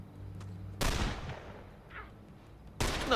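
Two sharp gunshots in the video game The Lamplighters League, each a loud sudden crack with a decaying tail, about two seconds apart over quiet background.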